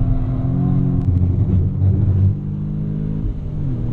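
Audi S3 engine pulling hard on the Nürburgring circuit, a steady loud in-cabin drone that rises through the revs, dips briefly around a gear change, then keeps climbing with a low rumble.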